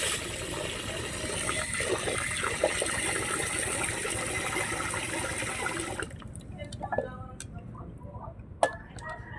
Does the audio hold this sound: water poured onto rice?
yes